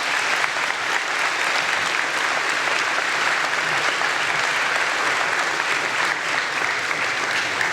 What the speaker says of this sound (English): One more round of applause for the George family.